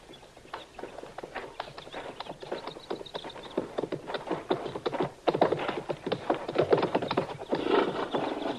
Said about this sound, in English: Chester, you can bring the horses out now.